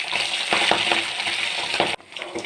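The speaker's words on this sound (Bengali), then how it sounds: "দেখো মাছের একটা দিক ভাজা হয়ে গেছে, আমি অন্য দিকটাও ভেজে নেব।" Tangra fish frying in hot oil for a Bengali fish curry, a steady close sizzle with soft clinks and stirring taps around it, ending in a quieter spatter.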